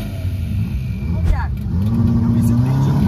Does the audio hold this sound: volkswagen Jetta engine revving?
yes